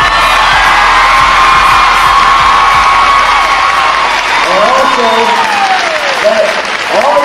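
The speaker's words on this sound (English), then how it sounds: "Was the loudest and the best crowd of all time." Loud cheering crowd at a 2005 state championship football playoff game, a dense sustained roar of applause, whoops and shouting that fills the whole stretch, with a few rising voices breaking through near the end.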